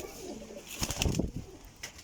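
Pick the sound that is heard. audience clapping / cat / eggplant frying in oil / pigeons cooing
pigeons cooing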